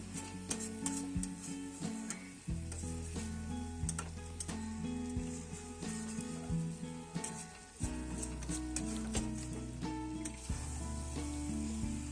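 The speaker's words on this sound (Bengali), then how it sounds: "সব কিছুর সঙ্গে ভালো করে কষিয়ে নিতে হবে আরও কিছুক্ষণ" Chicken and spices, with pieces of elephant foot yam, sauté in a pan, giving a steady sizzle with occasional ticks and stirring clatter under a continuous tonal drone, with no talking.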